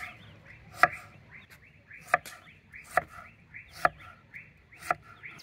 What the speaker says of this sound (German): Ich schneide in relativ kleine Stücke